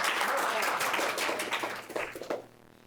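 Brief burst of audience applause during a Sarasota County school board meeting, fairly close and mixed with voices, fading out sharply after about two and a half seconds.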